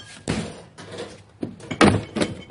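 A forcible entry tool strikes a door at its lock with several heavy, booming impacts at uneven intervals, loud and close, each thud ringing through the door.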